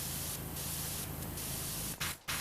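A pressure washer sprays in PowerWash Simulator 2 with a loud continuous hiss that pulses slightly, then cuts out in two brief gaps near the end before resuming.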